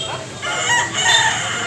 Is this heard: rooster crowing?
yes